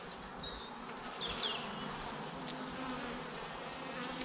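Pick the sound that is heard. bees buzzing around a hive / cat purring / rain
bees buzzing around a hive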